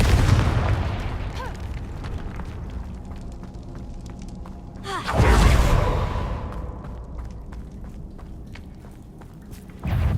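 Confringo blasting spell in the video game Hogwarts Legacy, a loud booming explosion with a whooshing rush halfway through, set against busy game action and rumbling before and after.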